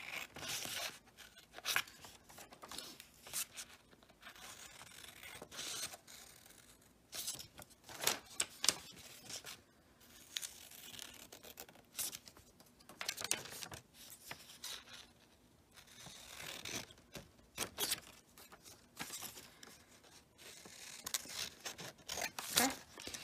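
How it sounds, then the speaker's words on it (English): Scissors cutting a paper circle out along dotted lines, a close, quiet run of crisp snipping and slicing strokes in an irregular rhythm, with rustling paper between the cuts. "I've cut out my medium circle. I cut along all of the dotted lines."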